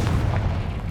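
A Confringo blasting spell explodes in the video game Hogwarts Legacy, a deep, rumbling boom that fills the whole short moment.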